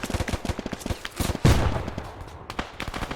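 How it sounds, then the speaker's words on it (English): Gunfire and a grenade blast in a World War II video game set in Stalingrad: rapid rattling bursts of shots, a heavier explosion near the middle, then more scattered firing, loud and close with no talk. "Grenade out, Seko."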